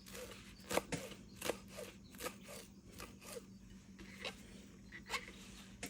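Knife chopping cilantro finely on a cutting board while making peach salsa: a string of sharp, fairly quiet taps at irregular intervals over a steady low hum.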